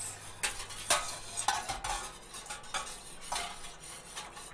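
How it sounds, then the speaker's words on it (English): Spoon scraping and clinking against a metal dye pot while citric acid is stirred into water, irregular close scrapes and taps with a faint background hum, no talking. "I'm just mixing in the citric acid just to make sure there's no lumpy bits."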